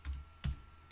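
Three soft keystrokes on a computer keyboard tap out at an even pace, close and quiet, with no talking.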